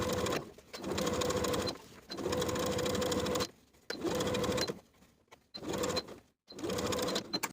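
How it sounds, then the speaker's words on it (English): Domestic sewing machine stitching a summer dress facing to its seam allowance along the neckline, running in several loud steady bursts separated by short pauses. "sewing the facing to its seam allowance all the way along the neckline"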